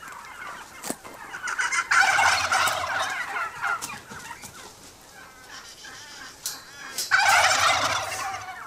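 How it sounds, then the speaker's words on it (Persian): Turkeys on a poultry farm flock of about 600 birds gobble in repeated bursts, with several loud calls overlapping and quieter clucking between them, fairly close and with no speech. "او امروز زیاده از 600 عدد مرغ مرجان دارد."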